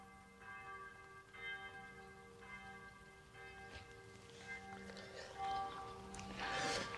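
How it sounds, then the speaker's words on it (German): Church bells ringing at noon in Germany, heard faintly from a distance on an outdoor walk, a slow repeating peal under low ambient noise and rustling. "Die Glocken läuten."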